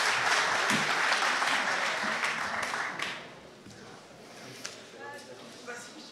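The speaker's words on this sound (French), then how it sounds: "On peut l'applaudir parce que c'est un peu compliqué de commencer avec ce format." Applause from an audience for speaker Michel Desvigne at a PechaKucha event, a full burst of clapping that fades after about three seconds, followed by quieter room noise and a few voices.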